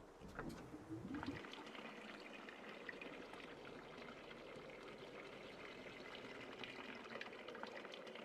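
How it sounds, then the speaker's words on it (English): Gasoline siphoned through a rubber hose from a vehicle in Project Zomboid, a steady liquid pour and trickle that runs continuously for several seconds after a short initial clatter, fairly faint. "we're gonna siphon some gas out of here because we got a rubber hose in a container"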